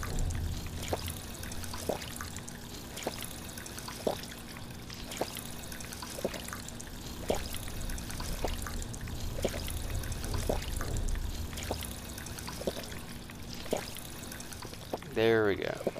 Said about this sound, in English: you can always fully heal up here at the water fountain.